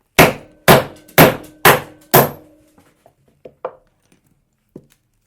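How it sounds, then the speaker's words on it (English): Hammer striking a disc cutter to punch a piece from a metal disc: five sharp, loud, evenly spaced metallic bangs with ringing tails, followed by a few faint clinks and taps. "take a hammer and just bang it out"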